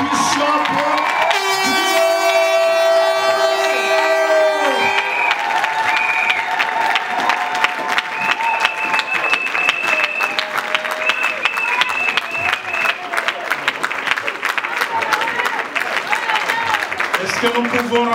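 A church congregation applauds loudly and steadily at a revival service, with cheering, shouting voices and tonal horn-like blasts over the dense clapping throughout.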